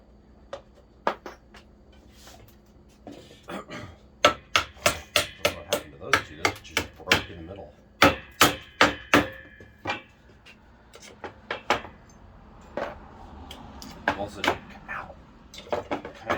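Sharp hammer blows striking wood, coming in quick bursts of repeated strikes with short pauses between, close and loud.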